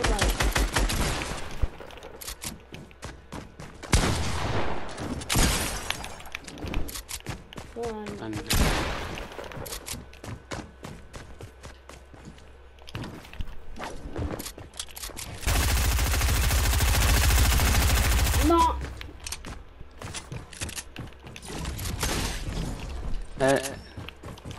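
Video game gunfire from blue weapons, with long stretches of rapid, rattling automatic shots, loud bursts, and a sustained roaring blast near the middle, while a player talks in Italian throughout.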